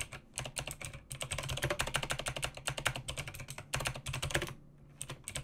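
Rapid typing on a computer keyboard while a project name is entered in Unity, with dense clicking keystrokes in bursts separated by brief pauses, close and clear with no talking.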